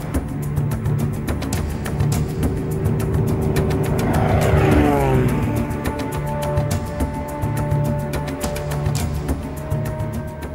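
A small propeller plane flies steadily overhead, a continuous droning engine with a rising and falling pitch as it passes, loud and close throughout with no talking.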